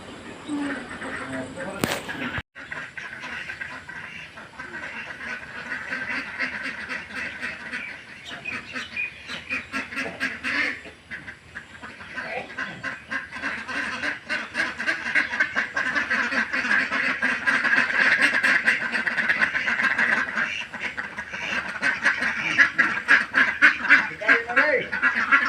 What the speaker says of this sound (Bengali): ওই দিকে দেখো হাঁসগুলো খেলছে।